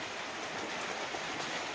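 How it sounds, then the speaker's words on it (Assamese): Heavy rain falling all around outdoors, a dense, steady hiss of downpour that stays constant and fairly faint throughout, with no voices. "প্ৰব্লেমটো হ'ল গোটেই চাৰিওফালে বৰষুণ দি দিলে টান টানকৈ"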